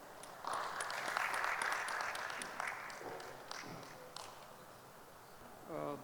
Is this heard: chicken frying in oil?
no